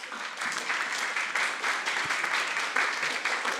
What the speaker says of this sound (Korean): 목사님 나오실 때 큰 박수 부탁드립니다